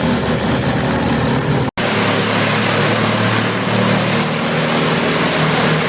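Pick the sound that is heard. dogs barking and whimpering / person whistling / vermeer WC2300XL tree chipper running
vermeer WC2300XL tree chipper running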